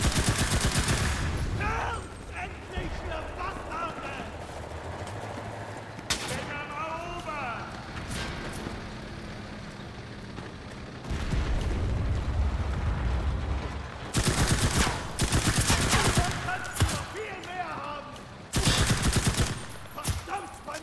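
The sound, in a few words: gunfire in war shooter video game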